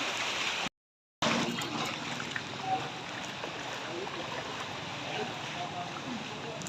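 Rough floodwater with waves surging through a flooded area in the Philippines, a steady broadband wash and churn that continues throughout, with a brief dropout near the start and people talking over it.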